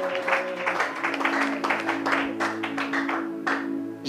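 A church congregation applauding during a Bible teaching, with brisk, rhythmic clapping over a sustained keyboard tone, moderately loud and continuous.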